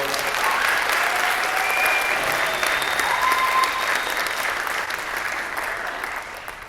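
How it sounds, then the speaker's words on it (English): Audience applause at a school jazz band and percussion ensemble concert, a steady wash of clapping from the crowd that holds evenly and slowly tapers off toward the end. "give them a round of applause."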